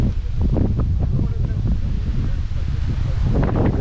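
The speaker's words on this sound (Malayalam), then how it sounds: "കാറ്റാ, സൂപ്പർ കാറ്റ്" Strong wind at the Koorumala hilltop viewpoint at sunset buffets the microphone in a loud, continuous roar with rustling, and voices are faintly present under it.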